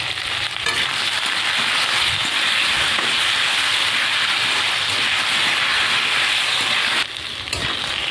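Potatoes seasoned with salt and turmeric fry in hot oil, giving a steady, loud, close sizzle with a dense hiss that barely changes throughout, dipping briefly near the end.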